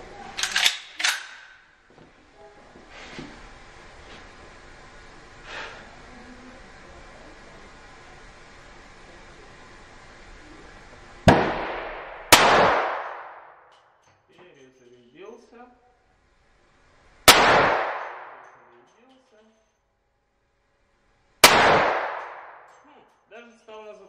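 Several sharp Desert Eagle pistol shots, each a loud isolated crack with a short decaying tail, spaced seconds apart after some quieter handling noises.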